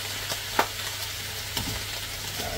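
Food being stirred in a pan just after soy sauce is added, a soft scraping stir over a steady low sizzle, with a couple of brief utensil scrapes, close and fairly quiet, no talking.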